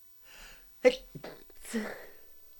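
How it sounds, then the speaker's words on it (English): A single sharp human sneeze, preceded by a short inhale and followed by a trailing voiced exhale, close and fairly quiet. "Sneeze."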